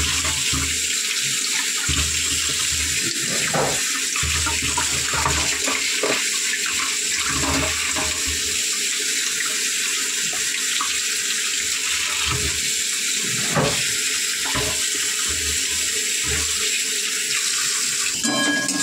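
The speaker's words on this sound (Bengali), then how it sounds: "আলুগুলোকে ভালো করে ধুয়ে নিতে হবে।" Cut potatoes are washed under a running kitchen tap, a loud, continuous splashing gush of water with small shifts as the potatoes are moved around in the stream.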